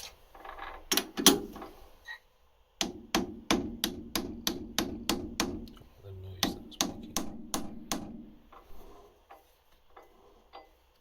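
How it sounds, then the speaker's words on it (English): A hammer strikes metal on a lathe in a series of sharp, evenly spaced taps, two short bursts with a pause between, close and ringing slightly. "we will try tapping it with a hammer"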